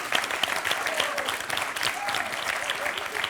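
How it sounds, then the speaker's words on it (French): A TV quiz show studio audience applauds a contestant's point, a steady, even wash of many hands clapping at moderate distance, lasting the whole moment with a faint voice underneath. "Et voilà le premier point de Thomas qu'on peut applaudir."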